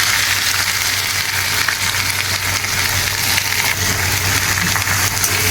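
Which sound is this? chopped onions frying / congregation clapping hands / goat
chopped onions frying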